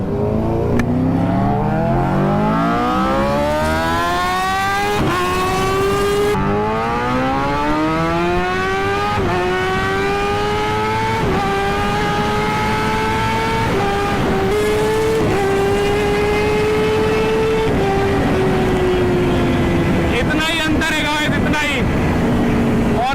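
A superbike roars through first gear, its engine pitch climbing steadily in one long, loud, close acceleration that fills the whole stretch, with a voice speaking over the engine noise.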